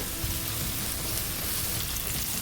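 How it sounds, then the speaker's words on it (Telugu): Sliced onions frying with asafoetida in a pan, a steady, soft, close sizzle and crackle that continues evenly without pause. "ఒకసారి మిక్స్ చేసుకొని కొంచెం కలర్ వచ్చేంత వరకు ఫ్రై చేసుకోవాలండి"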